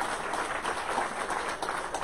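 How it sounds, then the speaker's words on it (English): Church congregation applauding in thanks during a worship service, a dense, even patter of many hands at moderate distance, with no voices over it. "give Jesus a hand clap of thanks"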